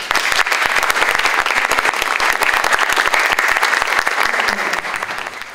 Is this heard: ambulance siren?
no